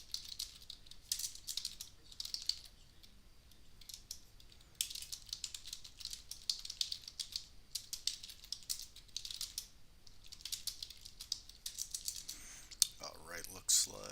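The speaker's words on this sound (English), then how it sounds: "As you can hear me feverishly typing away." Rapid computer keyboard typing clatters in quick irregular bursts with brief pauses between runs of keystrokes, fairly faint and close, followed by a short rustle at the end.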